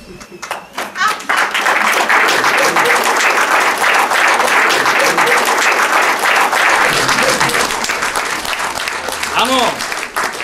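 Audience in a hall at a Czech stage show breaks into loud, dense, sustained applause that swells within the first second and holds steady to the end, with a voice surfacing briefly near the close.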